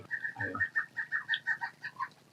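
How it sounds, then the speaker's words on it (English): A rapid series of loud, ringing calls from a pileated woodpecker repeats in quick succession, a piercing cackle sounding close and clear, near Falls Creek Falls in Gifford Pinchot National Forest. "we're getting interrupted by a pileated woodpecker right now, who's very loud"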